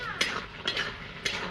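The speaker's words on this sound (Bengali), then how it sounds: "নাড়াচাড়া করে দেবো।" Pumpkin and potato curry with roasted cumin powder being stirred in a pot, a few soft scraping strokes of a spoon spaced through a quiet kitchen background.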